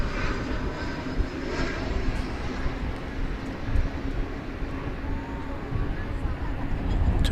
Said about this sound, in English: That beautiful A340. Taxiing in front of its big brother, the A380.